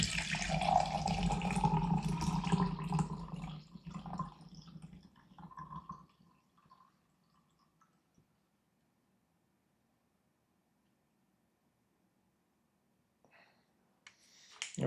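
Liquid poured off from a cup during wet cleaning of a Tales of Suspense #39 comic page, a steady trickling splash for several seconds that fades into near silence, with a faint clatter at the very end.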